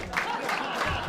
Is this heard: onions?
no